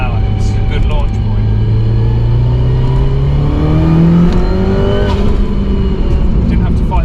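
A 450 bhp Audi TT Quattro Sport revs up and launches hard from 3,000 rpm in third gear at 30 mph, its pitch climbing steadily as it accelerates close by, with a voice talking over it.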